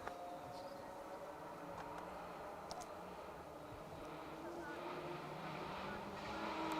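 Rally car cornering on a 2WD stage of the Malcolm Wilson Rally, its engine a steady, moderately distant drone that swells slightly toward the end, heard under someone commentating.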